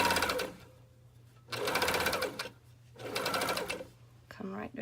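A sewing machine stitches the gusset seam of a pair of Greenstyle Super G tights, running in three steady buzzing bursts separated by short pauses, close and clear.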